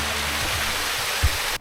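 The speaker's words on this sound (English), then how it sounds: "this is one of the first waterfalls of many to be seen" Steady broadband rush of a waterfall along the Hogsback off-road mountain route, loud and continuous with a brief low thump near the end before it cuts off.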